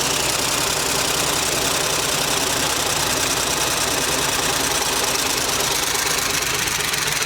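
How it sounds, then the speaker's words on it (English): A junkyard 1963 Cadillac limousine engine with single exhaust idles with a rapid, even valve chatter ticking over a steady mid-pitched rumble, loud and close, with no talking. "Well, them valves are chattering."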